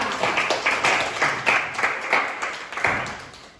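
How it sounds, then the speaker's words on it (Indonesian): A small class group claps together, a brief burst of scattered hand claps close by that tapers off within a few seconds. "tepuk tangan untuk kelompok 2"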